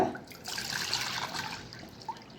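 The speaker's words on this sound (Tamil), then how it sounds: "பவுல் எடுத்துகிட்டு தண்ணி ஆட் பண்ணிக்கோங்க" Water pours and trickles steadily into a bowl for a couple of seconds, close by, with a small splash near the end.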